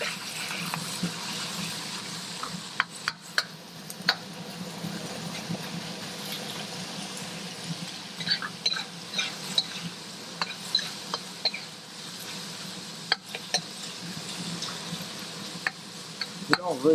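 Onions stir-frying over high gas heat for lo mein with roast red pork, a steady close sizzle with repeated scraping stirs and clicks of the utensil against the pan, without talk.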